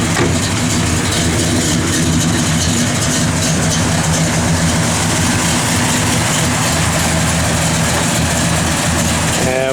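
A warmed-up 1966 Pontiac LeMans convertible engine idles steadily up close, a loud, even low rumble running without pause throughout.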